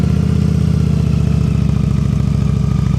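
Motorcycle engine at low revs during an advanced slow-speed riding practice session in Pennsylvania, a steady close putter with a regular pulsing beat and no talk.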